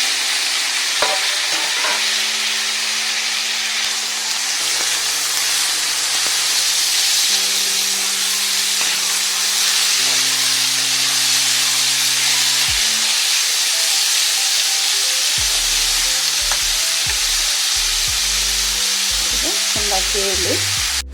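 Tomatoes and green chillies frying in a pan for egg curry, a steady sizzle and hiss running throughout, with occasional stirring scrapes and soft clatter close by, no voices.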